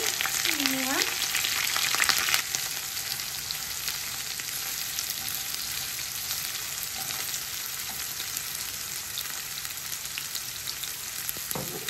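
Onion frying in hot oil for a greens dish, a dense, even sizzle that holds steady throughout, close and fairly loud, with a brief faint tone near the start.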